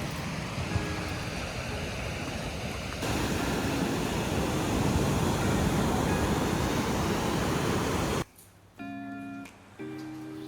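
Surf at a beach in Da Nang used for surfing, a steady loud broadband roar of breaking ocean waves for about eight seconds, ending abruptly in quieter ambience with faint tonal sounds.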